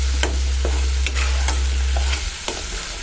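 A spice paste of ground onion, dried chilli and garlic is stirred in a hot pan, giving steady close sizzling with several sharp scraping strokes of the spoon, no voices.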